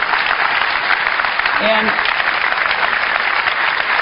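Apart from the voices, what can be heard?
audience applause at Apple keynote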